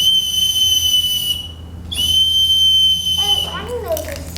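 A Native American deer antler whistle carved in the shape of an eagle gives loud, piercing, steady shrill tones imitating an eagle's cry, two sustained blasts separated by a brief gap, then a warbling, sliding call at the end.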